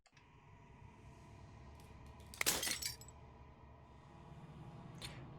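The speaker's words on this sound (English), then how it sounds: "As the final fragment of glass shatters" Glass shatters in the video game Slay the Princess, a single close, bright crash of breaking fragments with a short tinkling tail over a quiet ambient backdrop, followed a couple of seconds later by a faint clink.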